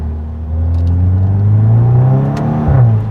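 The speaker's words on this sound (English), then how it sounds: "this exhaust is so rich, so deep" A 2014 VW Scirocco R's deep, rich exhaust note rises steadily as the engine accelerates, loud and close, with harmonic tones climbing in pitch.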